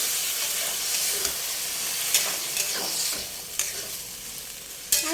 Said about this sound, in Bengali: এবার সেদ্ধ করা শিম বেগুন ঢেলে